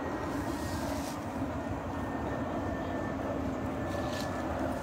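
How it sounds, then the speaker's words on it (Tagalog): Airplane flying overhead near an airport in a rural provincial area, a steady broad engine rumble that holds evenly loud throughout, with no talk. "Ayan yung aeroplano. Malapit kasi ito sa airport."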